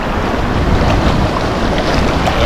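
Sea waves rolling and crashing near a rocky shore below a mountain, a steady loud wash of surf mixed with wind buffeting the microphone, continuous throughout with no voices.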